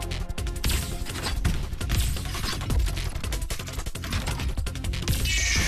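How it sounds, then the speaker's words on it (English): Gunfire aimed at wings in the VR game Eagle (Citadel), a dense, continuous rattle of rapid shots and crashing impacts filling the scene, loud and up close with hardly any talk. "Shooting the wings."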